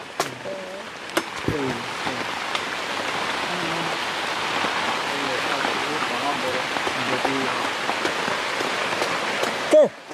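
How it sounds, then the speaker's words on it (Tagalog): Rain begins falling on a hut atop a mountain, a steady soft patter spread across the clip, with scattered voices talking over it and a brief louder knock near the end. "Wah, ulan na."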